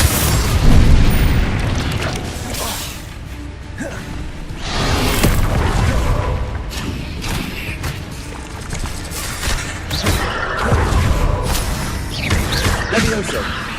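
Confringo explosive spell blasts in Hogwarts Legacy on Xbox Series X, with repeated loud booms and crackling bursts over dense, continuous combat noise.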